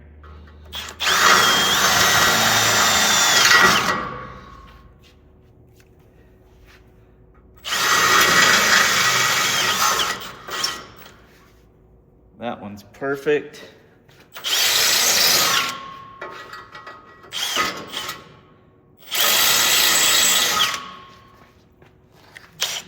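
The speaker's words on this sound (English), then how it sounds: "And this is the little bit smaller drill bit still." A power drill bores holes with a fairly small bit during winch mount and bumper fabrication, running in several loud bursts of a few seconds each, separated by quiet pauses; someone speaks briefly between bursts.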